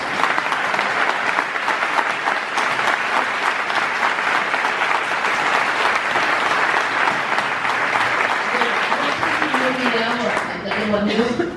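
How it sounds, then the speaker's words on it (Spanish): A room full of people breaks into loud, sustained applause at a book presentation for a singer's memoir, the dense clapping holding steady throughout with some crowd noise and murmuring mixed in near the end. "por los aplausos que oigo"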